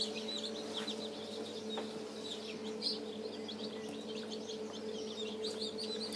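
Chicks or young chickens on a New Zealand poultry setup chirp repeatedly in a steady cluster of high peeps, mid-distance, over a constant low hum of equipment.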